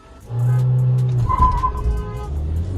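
A VW Virtus GT launches off the line in a drag race, its engine rising from a loud idle into a strong, steady rev that holds close and loud with no talk over it.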